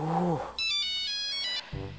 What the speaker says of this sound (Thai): เดี๋ยวโทรศัพท์เข้ามาก่อน